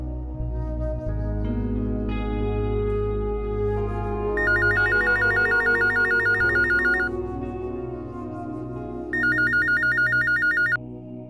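A telephone rings in two bursts of rapid electronic trilling in a TV drama scene, the first longer than the second, over a low background hum.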